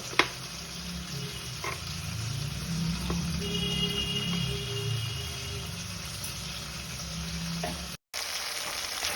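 Ginger and tomato fry in a pan, a steady, moderately loud sizzle running throughout with a few sharp clicks of stirring and a brief dropout near the end, no talking.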